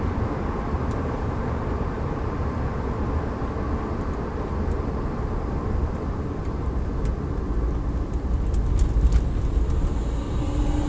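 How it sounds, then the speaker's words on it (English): Steady wind and tyre road noise inside a moving 2008 Lexus IS on low-profile tyres, a continuous low rumble and hiss at moderate level with no talking. "There's a bit of wind and road noise."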